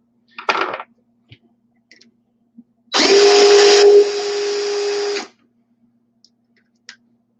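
Deburring tool trimming a Starline 30-30 Winchester brass cartridge case, a steady mechanical whir lasting about two seconds after a few light clicks and taps, close and fairly loud.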